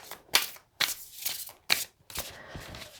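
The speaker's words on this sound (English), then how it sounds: "88 cards, takes a while to shuffle that one" A deck of 88 oracle cards is shuffled by hand in several quick riffling bursts separated by brief pauses, close and fairly soft.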